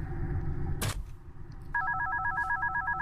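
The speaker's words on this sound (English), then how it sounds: "Here comes the freaky phone call." A phone rings in the horror video game One Night at Flumpty's, its repeating electronic trill starting after a short burst of noise and continuing steadily and clearly.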